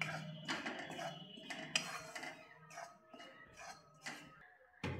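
Wheat flour dry-roasting in a pan, with a spatula scraping and clinking against the metal in irregular strokes, close and fairly quiet, with no talking.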